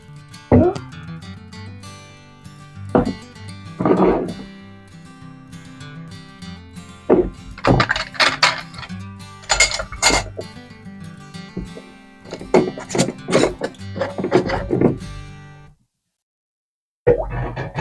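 Glass jars of homemade tomato sauce set one after another into a water bath canner, giving scattered clinks and clunks with pauses between, fairly close, no talking.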